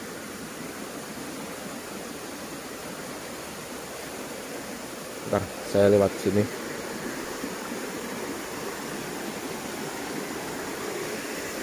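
Spring water flowing out of the ground at an old landslide gives a steady broad rushing hiss, continuous and moderately loud, with someone speaking briefly midway.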